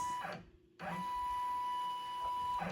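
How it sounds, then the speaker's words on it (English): A Baby Lock Venture embroidery machine runs its hoop scan, giving a steady mechanical whir with a sustained tone and brief motor bursts at start and end, close and moderately loud with no talk. "I'm going to hit this scan button so that it can scan to make sure we have enough space"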